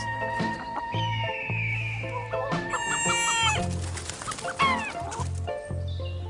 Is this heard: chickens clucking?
yes